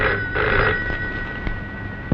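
Telephone ringing in an old Telugu action drama as a call goes out to a police DSP, a shrill electric bell ring with a short burst, clear and up close without speech.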